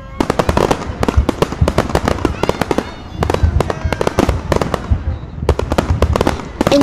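New Year 2022 fireworks burst all around at Dubai Marina, a dense barrage of sharp, overlapping bangs and crackles near and far, with a few voices faintly underneath.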